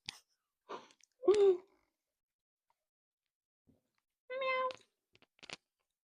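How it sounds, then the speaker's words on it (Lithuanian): A pet cat meows in short calls, one strong harmonic cry near the start and another a few seconds later, with small scrapes and clicks around them and near silence in between. "Mano katinas"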